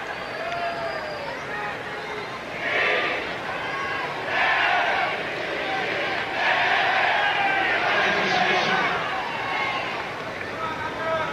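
A tennis crowd at the 1998 Lipton Championships final between Agassi and Rios keeps up a steady buzz of chatter and shouts, with louder swells of cheering, while a commentator speaks over it.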